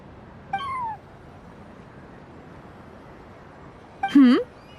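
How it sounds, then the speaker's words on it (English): A cat in the video game Genshin Impact gives two distinct meows, a short one early on and a louder, rising one near the end, over a quiet background. "Hello there, little kitty."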